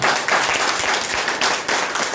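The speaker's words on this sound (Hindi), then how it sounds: "एक बार मैं मेरे कहने से ताली जोरदार" A crowd claps steadily at a Corona warriors honoring ceremony held by a charitable foundation, the dense, even applause filling the whole stretch with brief swells and no voices on top.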